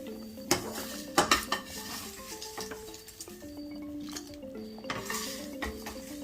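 Roasted spices go into a pot of Thai soup amid clattering pot and utensil sounds, a few sharp metallic knocks, and a light background sizzle, close and fairly quiet, without speech.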